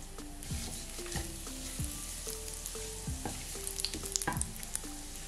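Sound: frying cumin, mustard seeds and coriander in oil or ghee

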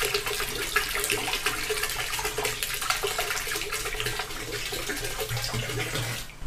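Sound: EM solution being poured into a drum of jaggery water

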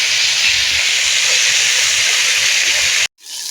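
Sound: frying drumstick (sajna) greens in oil

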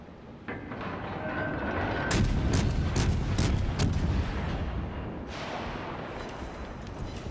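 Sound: tank cannon firing HE shells in a video game

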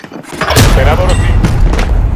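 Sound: thermite grenade thrown in Call of Duty: Modern Warfare video game

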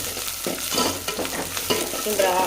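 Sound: onions frying in a pan

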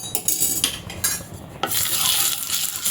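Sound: jowar flour chilla batter and oil sizzling in pan

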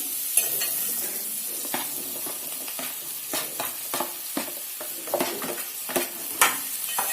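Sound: okra stirred and frying with onions in a pan

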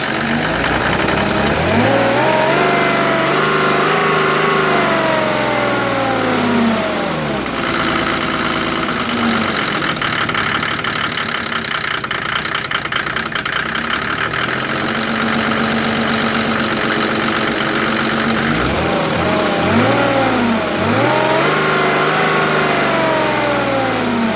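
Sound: Mercedes OM603 3.0 diesel engine revving on PN-40 motor pump

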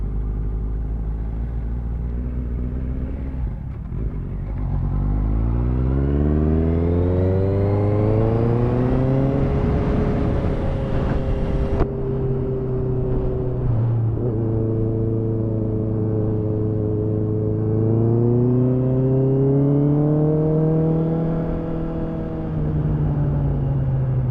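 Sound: Honda CBR motorcycle riding in first gear

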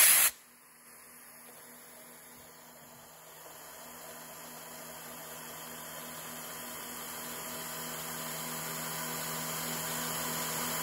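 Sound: CNC mill cutting with spray mist coolant

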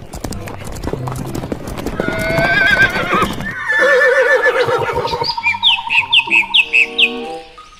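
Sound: horse neighing

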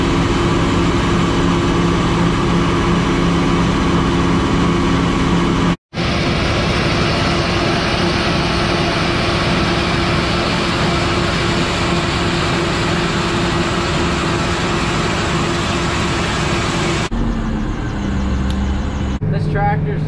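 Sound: Case IH 7120 tractor engine running in neutral at 2050 RPM

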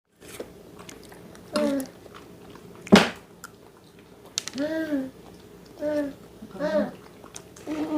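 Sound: eating crunchy strawberry jam toast

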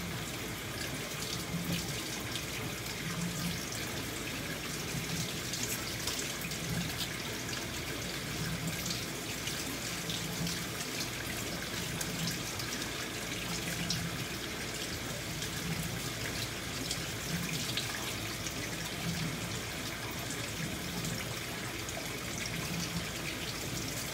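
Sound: water running from a tap while wetting hands

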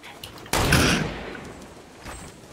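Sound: sniper rifle shots in the video game Fortnite

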